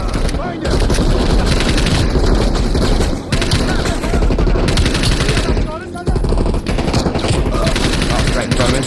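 Dense, loud automatic gunfire from the Call of Duty: Black Ops Cold War campaign on PS5 runs almost nonstop, with only a few brief breaks, and a player's voice is mixed in with the shots.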